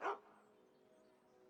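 A single short dog bark from a mangy mongrel in Skyrim, fairly loud at the start, then a quiet, steady game ambience with faint tones.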